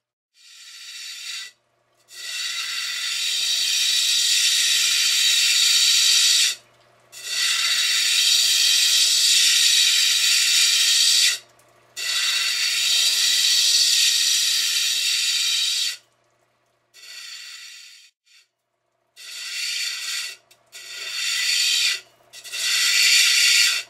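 Corners of an agate stone block are cut off with a saw in several loud, gritty, high-pitched bursts of a few seconds each, separated by short silent pauses.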